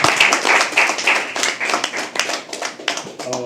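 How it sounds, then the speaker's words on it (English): A small audience at a live poetry open mic claps in a loose, uneven burst of hand claps, rising and falling in short waves, with some voices mixed in. "Can we please have a applause?"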